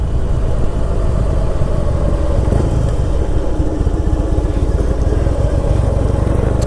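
A 2006 Harley-Davidson Heritage Softail motorcycle rides along with a constant loud engine drone and wind rumble, close up and steady for the whole stretch with no speech.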